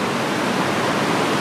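Loud, constant rush of flowing water in the Black Forest, a broad unbroken hiss and roar like a close stream or small waterfall, with no other sounds on top.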